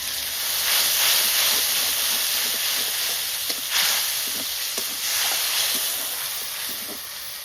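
Water poured into a hot pan of frying ginger, garlic and onion bursts into loud hissing steam and sizzle, a broad, rushing roar that swells and eases in waves for several seconds.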